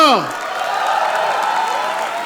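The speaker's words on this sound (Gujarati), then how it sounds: "તાળીઓ તાળીઓ તાળીઓ" Audience at a live Gujarati comedy show in Ahmedabad breaking into applause and cheers, a full crowd roar sustained throughout after a brief falling whoop at the start.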